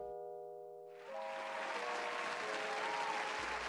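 Applause fills most of the clip after a steady tone fades, a sustained wash of clapping that stays fairly loud until it drops off near the end.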